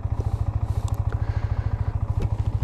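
A Yamaha MT-15 BS6 motorcycle engine idles in neutral close by, with a steady, rapid thumping pulse that stays even throughout.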